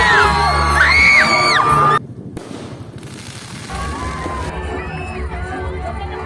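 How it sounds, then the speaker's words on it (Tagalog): A loud festival crowd at a Sinulog-style street performance in Muntinlupa cheers, whoops and whistles, then drops briefly before the shouting and clapping pick back up, with voices mixed throughout. "talagang sinuportahan at pinaulanan ng palakpakan at sigawan ng mga manonood"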